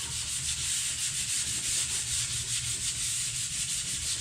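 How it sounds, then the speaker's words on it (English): A steady, close rasp of sanding runs without a break while a wooden skateboard deck gets a light scuff. The sound stays even for several seconds and no one speaks. "all we're gonna do is just give everything a quick scuff"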